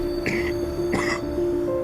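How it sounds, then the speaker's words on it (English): A person coughs twice in quick succession, close and fairly loud, with a steady tonal hum underneath. "God, this cough sucks."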